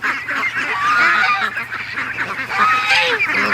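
Ducks and geese call together in a waterfowl yard, a continuous overlapping chorus of honks and quacks at close range with no speech.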